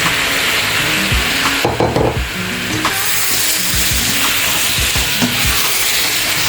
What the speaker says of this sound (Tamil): இப்போ வந்து இதில் பொரிச்சா இந்த கிழங்கை வந்து இதில் போட்டுக்கணும்.